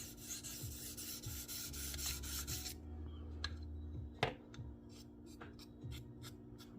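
Case Sodbuster knife blade stroked back and forth on a TS Prof Kadet Pro sharpener: steady close-up rasping rub for the first few seconds, then quieter intermittent scraping strokes with a low hum underneath.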